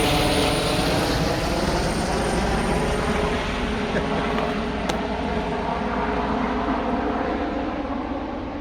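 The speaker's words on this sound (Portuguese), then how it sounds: "até helicóptero da polícia vem em cima de mim para fazer barulho e atentar minha vida" A police helicopter flies overhead, its dense rotor and engine roar filling the whole stretch as a loud, constant drone without letup.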